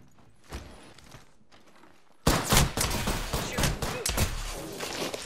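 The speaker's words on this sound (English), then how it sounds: "Taking a shotgun shell to the chest." Shotgun fire in the game Apex Legends, a quiet lead-in with one soft thump, then a loud burst of rapid overlapping blasts and impacts that keeps going to the end.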